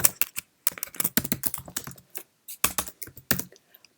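Keys on a Mac computer keyboard clatter in quick, uneven bursts as a contact name is typed, with brief pauses between runs of keystrokes, close and clear with no talking.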